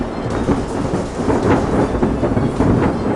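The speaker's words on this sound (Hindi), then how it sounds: "परंतु तूफान लगातार भयंकर रूप लेता जा रहा होता है" Rumbling thunder and storm noise roll continuously and loudly for a few seconds, a dense low roar with rain-like hiss and swelling peaks, used as a storm effect in a story narration.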